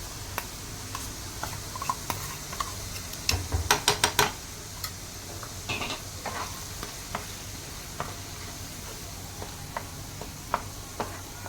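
Red chili paste for Schezwan chutney frying in a pan and being stirred, a soft steady sizzle under scattered scraping and tapping of the spoon, with a brief flurry of sharper clicks near the middle.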